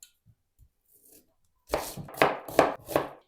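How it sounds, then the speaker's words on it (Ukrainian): A knife dices onions on a cutting board in four or five quick, crisp strikes after a quiet start, close and distinct. "Мені знадобиться дві цибулини і нарізаю її кубиком"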